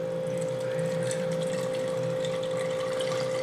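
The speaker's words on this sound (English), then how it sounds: "I'm just going to use this guy to go ahead and get this liquid in there" Liquid is poured slowly through a small funnel while preparing PDA agar for petri dishes, a soft steady trickle with a constant tonal hum underneath and no talk.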